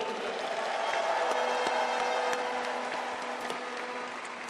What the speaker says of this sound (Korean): 힘찬 응원과 격려의 박수 부탁드립니다